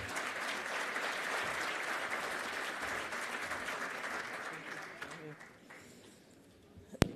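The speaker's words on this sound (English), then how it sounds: "Massive round of applause for the good doctor." Sustained audience applause at a hydrogen summit, welcoming a speaker, with steady clapping that gradually thins out and fades near the end, followed by a sharp knock or microphone bump.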